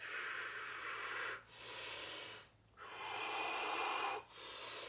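Slow deep breaths during a seated chair yoga forward fold, close and airy, with long hissing inhales and exhales separated by brief pauses, about three full cycles, no speech.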